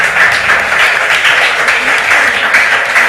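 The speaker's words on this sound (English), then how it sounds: "Let's give them a big round of applause." An audience at a regional qualifier contest gives the winners a sustained round of applause, dense steady clapping that stays loud and even throughout.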